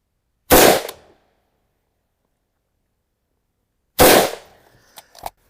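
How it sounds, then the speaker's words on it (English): Two loud, sharp rifle shots from a Vector Optics S6 LPVO-scoped rifle being zeroed at a range, roughly three seconds apart, each with a short decaying tail, the second followed by faint clinks. "A couple more shots to see if we're there."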